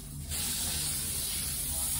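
Olive oil hair spray hisses in one steady, close burst onto a flat-ironed curly wig, starting a moment in and continuing unbroken to the end.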